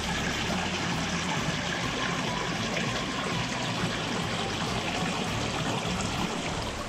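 A backyard pond waterfall pours steadily, a dense, continuous rushing splash heard up close with no talking.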